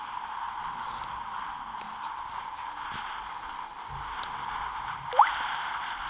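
Grub bait goes onto a hook in an ice fishing video game: soft wet squishing and faint clicks over a steady ambient hum, capped by one short sharp squelch near the end.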